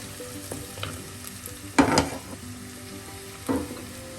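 Ginger and garlic sizzle in hot oil with a steady crackle, broken by a few sharp clanks of a spoon stirring the pan.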